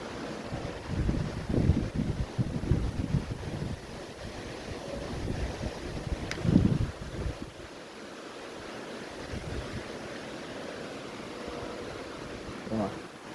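A fishing boat moving slowly against waves while pike spinning, water slapping and splashing against the hull with gusty wind buffeting the microphone, and a voice speaking at times.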